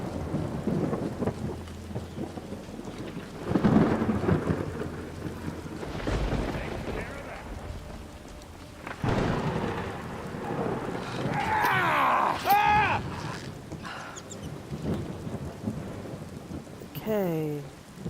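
Thunderstorm with rain in the video game Skyrim VR: steady rain hiss with several deep rolling thunder rumbles, one loud crack near the middle, and faint wind throughout.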